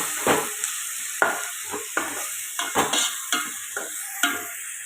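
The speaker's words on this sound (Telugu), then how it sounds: "టమాటో కూడా పచ్చివాసన పోయేదాకా ఫ్రై చేసుకున్నాం" Tomatoes fry in a pan for egg curry. A spoon scrapes and stirs them in a series of distinct strokes over a close, steady sizzle, with no talking.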